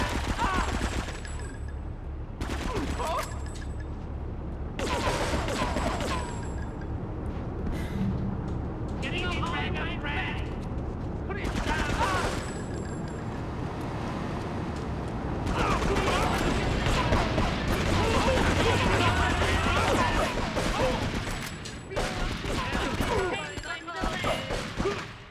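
Rapid gunfire bursts and crashes from Grand Theft Auto III on PS2, loud and dense through much of the stretch, layered with game mechanisms, thuds and voices talking over it.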